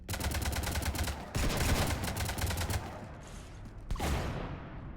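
Rapid automatic gunfire from a Mass Effect 3 firefight, Legendary Edition, loud and close in dense unbroken bursts, with a short lull before the shooting picks up again.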